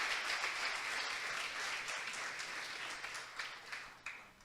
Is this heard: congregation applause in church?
yes